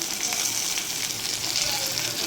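Coriander leaves frying in a hot pan give a loud, continuous sizzle with a dense crackle that stays steady throughout.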